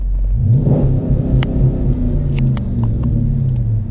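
A Dodge Charger SRT8 V8 engine rumbles loudly and evenly under full throttle, a deep, steady drone that never climbs higher in pitch.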